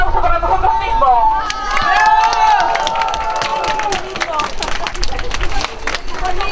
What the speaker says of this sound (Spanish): Un aplauso para nosotros mismos.